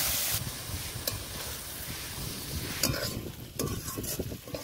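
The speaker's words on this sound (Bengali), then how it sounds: "এবার মাছগুলো দিয়ে দেব। মাছটা দিয়ে কিছুক্ষণ রান্না করে নেব।" Lote fish frying in hot spiced oil for a Bengali curry, a soft steady sizzle with intermittent scraping and stirring sounds from a spatula, close but fairly quiet.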